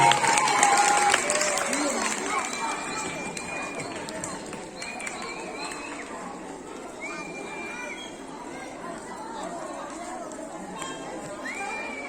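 Applause from a crowd at a children's fair, steady clapping and chatter throughout, with a voice speaking over a loudspeaker.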